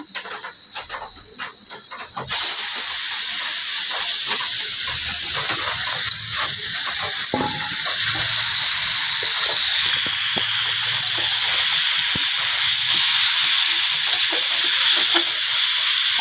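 Water poured into a hot pan of frying meat with onion and cumin sets off a sudden loud, steady hissing sizzle that continues strongly after a quieter frying start.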